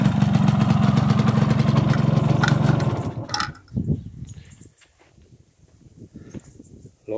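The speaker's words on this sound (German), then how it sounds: "Läuft sehr schön. Motor hat sehr viel Laufkultur, viel weicher als ein Sachsmotor." A Zündapp KS 80 Super motorcycle in original condition runs with a loud, steady engine note that stops abruptly after about three seconds, followed by a few faint knocks and handling sounds.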